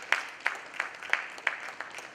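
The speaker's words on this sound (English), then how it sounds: "So can you say okay and give a big claps?" A conference audience claps in a sparse, rhythmic patter of separate handclaps, a steady pulse of individual claps at moderate distance.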